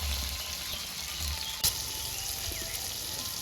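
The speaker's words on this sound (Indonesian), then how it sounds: "Bahannya sambal digoreng" Sambal ingredients fry in a pan with a steady, moderately loud sizzle that holds throughout, broken by one brief sharp clack partway through, with no voices.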